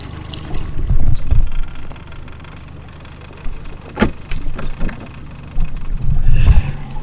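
A small boat rides back up a bayou after a thunderstorm, with a low motor rumble and water rushing against the hull that swells and fades, close and fairly loud.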